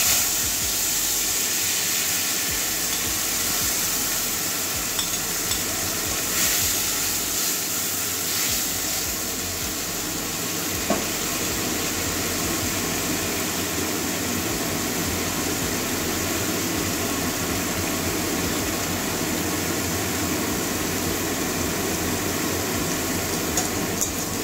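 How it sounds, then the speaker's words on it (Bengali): Onion paste frying in hot oil with a broken dry red chilli and a bay leaf for a Bengali bitter gourd, eggplant, potato and pumpkin curry, giving a steady, loud, dense sizzling hiss that runs unbroken throughout with no talking. "ভালো করে ভেজে নেবো পেঁয়াজটা, কাঁচা গন্ধ যাওয়া পর্যন্ত"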